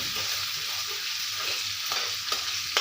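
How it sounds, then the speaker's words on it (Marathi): A medium-sized tomato sautéing in hot oil with spices in a home kitchen, a steady bright sizzle with occasional soft stirring scrapes, close and continuous with no talk. "आता मी एक मीडियम साईजचा टोमॅटो घालत आहे टोमॅटो पण छान असा दोन ते तीन मिनिट परतून घेऊया तेलामध्ये"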